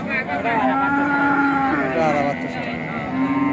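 A cow at the Aronkola cattle market in Ishwardi, Pabna, gives a long, loud, drawn-out moo close by, followed by a second lowing call, with market noise and voices underneath.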